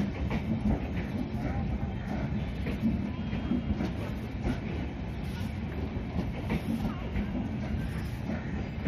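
Inside the Rajdhani Express on its run from Mumbai CSMT to Hazrat Nizamuddin, a steady loud rolling rumble with faint rhythmic wheel clatter continues throughout, and no one speaks.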